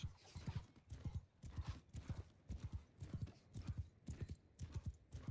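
Horse hooves galloping in the Bannerlord video game, a steady rapid clip-clop rhythm repeating throughout, fairly faint and without talk.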